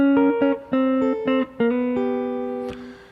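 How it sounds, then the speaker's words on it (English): A clean electric guitar plays a short bluesy lick of plucked notes and bends, ending on a ringing held note with no talking. "I want to teach you a little bluesy lick that you've definitely heard before"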